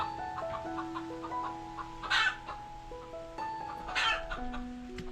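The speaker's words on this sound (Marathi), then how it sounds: "कोंबडी ते बघा तिकडं ते" Chickens clucking outdoors near a home, a steady low clucking with two louder squawking bursts, moderately close over soft background sound.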